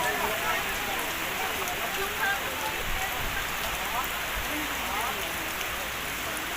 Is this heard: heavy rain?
yes